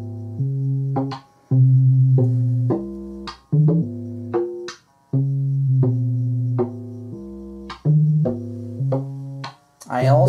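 A DIY clone of a Buchla 158 oscillator, driven by a pulse sequence from a Buchla 208, plays a loud, rhythmic series of rich harmonic tones. Notes shift pitch in repeating steps with short gaps, and no talk is heard.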